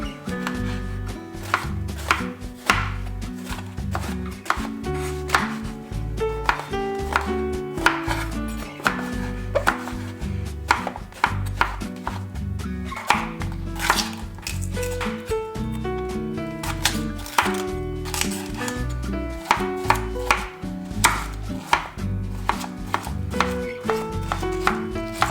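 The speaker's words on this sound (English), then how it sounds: "I just chopped some Mediterranean vegetables" Courgette, aubergine, pepper and celery being chopped on a board produce rapid, steady knife taps, loud and close, repeating throughout with no talking.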